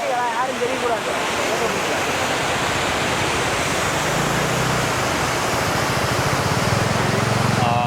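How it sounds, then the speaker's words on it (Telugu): Dense, roaring rush of Cheeyappara waterfalls beside a highway near Munnar, Kerala, pouring steadily down a hill, loud and close, with a voice briefly audible at the start. "చూడండి వాటర్ అంతా ఎంత బాగా వస్తుంది"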